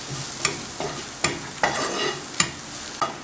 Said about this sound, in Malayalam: ഇനി ഇതെല്ലാം കൂടി നമുക്ക് നന്നായിട്ടങ്ങ് വഴറ്റിയെടുക്കാം.